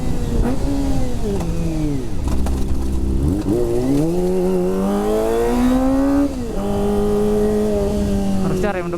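Kawasaki ZX25R motorcycle engine, cold after sitting unused a long time, revving up and down in rising and falling sweeps, close and loud, with a voice briefly talking over it.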